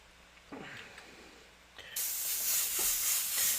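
An airbrush loaded with opaque paint mixed with some illustration black gives short, quiet puffs of spray, then a louder, continuous hiss of steady spraying.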